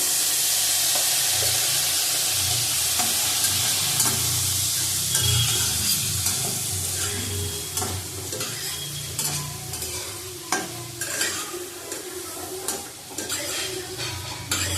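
Eggplant with turmeric frying in a pan gives a steady loud sizzle and hiss, with scraping stir strokes and clinks of utensil on the pan growing more frequent toward the end.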